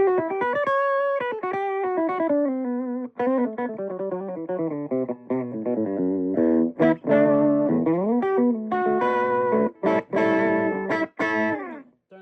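A Fernandes STC-50 electric guitar plays through a small iRig Micro workbench amp, with close, lightly distorted sustained legato lines that break into quicker, choppier phrases, and no talking.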